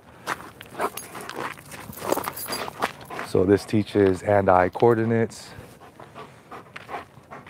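A giant schnauzer pants in quick, rhythmic breaths during play after an obedience session, close by, with someone talking over it and footsteps and movement around.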